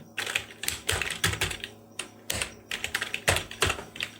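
Rapid keystrokes on a computer keyboard while writing in Microsoft Word, arriving in irregular bursts of clicks with short pauses, close and clear, with no talking.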